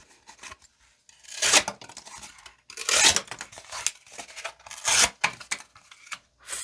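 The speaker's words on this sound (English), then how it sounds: "Let's close it up with some box cutting" A CRKT Compact Tuna knife slices through a cardboard box in three or four rough, scraping cuts, close and fairly loud, with quieter rustling between strokes.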